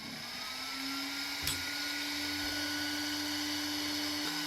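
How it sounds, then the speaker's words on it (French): Small cooling fans for the speed controllers on a tracked RC robot whir steadily with a thin, high electric hum, close and moderately quiet, with a brief click partway through and no talking. "Ce que vous entendez là, ce sont les ventilateurs qui servent à refroidir les variateurs."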